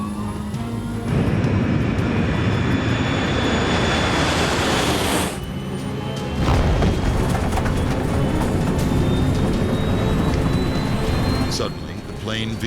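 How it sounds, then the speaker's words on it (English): Jet engines of a Continental Airlines airliner roar loudly and continuously during the takeoff roll, a broad, powerful rumble that briefly dips and then surges again. A voice speaks over the noise. "The plane races off the runway at a speed of more than 100 miles an hour."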